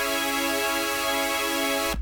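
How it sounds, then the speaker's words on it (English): A Fabian Mazur synth preset from the Elixir pack sounds one dense, sustained chord laced with white noise, giving a full, distorted tone that holds loud and unchanging for about two seconds before stopping abruptly. "right here a Fabian Masur synth from the Elixir pack."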